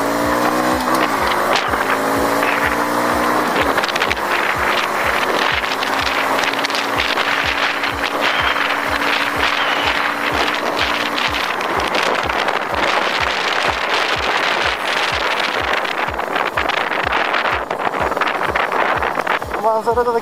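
A Nevada 250 chopper motorcycle with front and rear ABS is ridden on the road: a close, loud engine drone shifts pitch through gear changes over a constant rush of wind, unbroken for the whole stretch.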